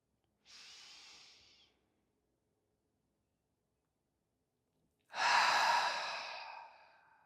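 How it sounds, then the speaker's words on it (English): Two audible breaths during a calm breathing practice: a short, soft breath, a few seconds of silence, then a louder, longer exhale that slowly fades. "I encourage audible breaths."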